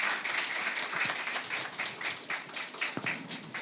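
A church congregation claps loudly and continuously together during a Sunday service, a dense, steady wash of applause with a few sharper claps standing out, sustained at an even level throughout.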